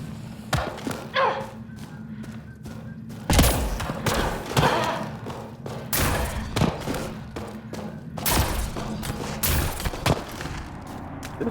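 Sniper rifle fire in Mass Effect Andromeda: a series of sharp, heavy shots about a second or two apart, each a loud crack with a thudding tail, over a low steady background hum.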